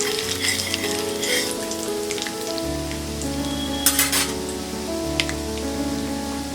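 Chana dal and urad dal fry in a pan of oil for bread upma, a soft steady sizzle with a few brief crackling bursts over a constant background hum and music-like drone.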